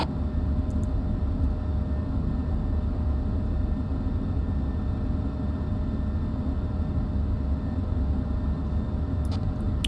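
A military jet taxis toward the runway in a video game, giving a loud, steady engine rumble and roar that holds constant throughout, with only faint tonal whine on top.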